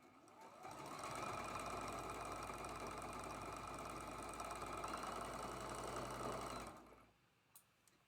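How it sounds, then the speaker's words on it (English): A sewing machine stitches a quilt block seam, a steady close mechanical whir running for several seconds before stopping abruptly, with a faint click afterward. "We're going to sew that seam right there."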